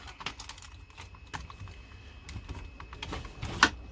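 A paper card being trimmed for cardmaking, a series of soft dry clicks and taps from the cutting tool, with a sharper snap near the end.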